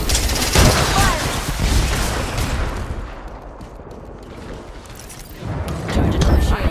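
Apex Legends gunfire crackles in dense, loud bursts with booms, easing in the middle and returning at the end, while voices speak over the fighting.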